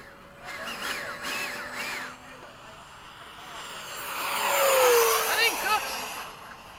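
An RC model F-15 jet with a 1600 kV motor makes a high-speed pass at an evening flying field, its whine rising and sweeping loud past the listener midway, with people talking before it.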